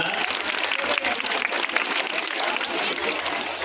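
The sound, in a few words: audience applause after magic trick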